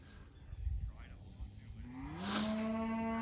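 A single cow from a grazing herd in a winter pasture gives a long, rising moo, faint and distant over low outdoor background noise, with no voices.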